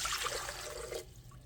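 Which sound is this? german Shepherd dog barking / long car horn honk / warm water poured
warm water poured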